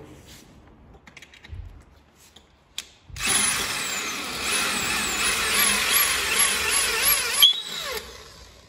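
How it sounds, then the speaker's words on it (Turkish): A power drill bores a hole in a motorcycle for fitting an amber LED module, running loud and close with a steady whine for about five seconds after some faint handling noises. "şurayı delip geliyorum"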